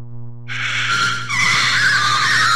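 A plant screams in the video game Mad Father, a harsh, piercing shriek that bursts in after a steady low tone and holds loud and unbroken until the end, with no talk.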